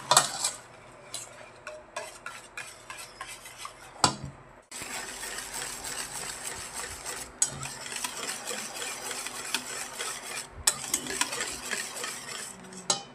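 Eggs get mixed into cookie batter in a bowl, a utensil scraping and tapping in rapid rhythmic strokes with wet stirring, close and moderately loud, with short pauses.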